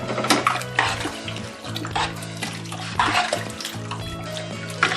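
Crayfish and their liquid are poured into a gumbo pot over medium-high heat, giving a splashing, sloshing pour with metallic clinks and scrapes from the pot, moderately loud and close.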